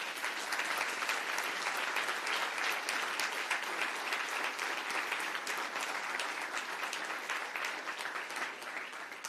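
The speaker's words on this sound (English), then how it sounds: "so I think we should applaud them." Sustained, dense applause from an audience honoring campus officers at a Take Back Title IX event, steady and loud throughout with no break.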